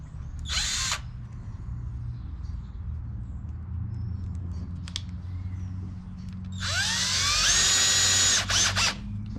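Power drill driving 3/4 inch screws through nylon: a short whirring burst near the start, a faint blip midway, then a longer, louder run of drilling with rising pitch near the end, close by.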